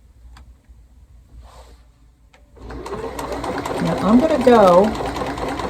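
A Bernina Series 3 sewing machine starts stitching a buttonhole, a steady close mechanical whir rising and holding to the end, with a person speaking briefly beforehand and over the start.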